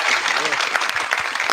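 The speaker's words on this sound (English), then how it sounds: "Clap it up for Paratha" An audience claps for a short burst, steady and fairly close, mixed with chatter and voices over the applause.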